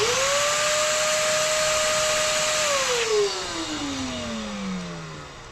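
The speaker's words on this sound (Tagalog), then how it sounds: "Vacuum natin." A vacuum cleaner runs close and loud at a steady high whine, being used while servicing the stripped oil drain plug thread of a Honda TMX 125 motorcycle, then spins down with its pitch sliding steadily lower.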